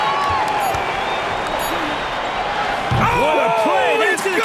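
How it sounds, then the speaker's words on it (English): Arena crowd in the NBA 2K25 video game roaring and cheering loudly and continuously after a buzzer-beating Nuggets versus Kings play, with sharp sneaker squeaks on the court and a commentator's voice running over the din. "Listen to this crowd right now."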